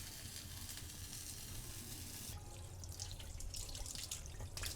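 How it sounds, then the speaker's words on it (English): Methi paratha cooking in homemade ghee on a hot pan, with a soft, steady sizzle and crackle that brightens partway through, and no talking. "Nice hot pan, and in goes the"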